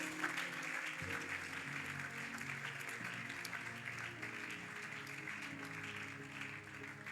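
A church congregation applauds, steady clapping from many hands that carries on throughout, moderately quiet with some music underneath.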